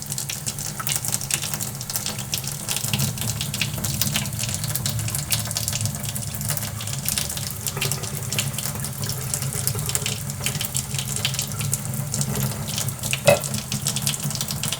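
Water pours steadily through a wet fine-mesh brine shrimp net into a container, a continuous close splashing rush with no pauses and no talk.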